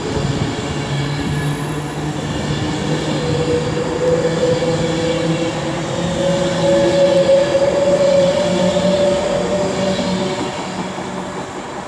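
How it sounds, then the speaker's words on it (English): A Pendolino train pulls away from Milton Keynes Central on the West Coast Main Line, a steady, rumbling electric drone with a rising whine and faint wheel squeal, close and sustained throughout with no talk. "I could listen to a Pendolino departing all day."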